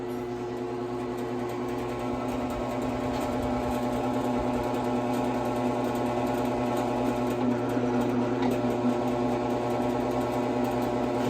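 An electric drill runs with old Harbor Freight step bits, a steady, continuous motor whine and grinding hum that holds at an even level for the whole stretch, close and alone without talking.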